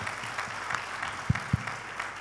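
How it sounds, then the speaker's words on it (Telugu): Audience clapping together, a brief wash of applause in a hall with a couple of sharp louder claps standing out, fairly faint and short. "అది గట్టిగా ఒకసారి చప్పట్లు కొడదాం"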